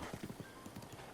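Quick rhythmic clip-clop of horse hooves at a trot in the video game Zelda: Breath of the Wild, fairly faint and steady, with no speech over it.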